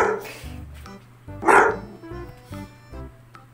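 A dog barks a few times nearby, sharp and loud, with short pauses between barks over a steady low hum.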